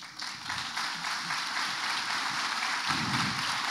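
An audience breaks into applause at a talk event, a dense, steady wash of clapping that holds at an even level throughout.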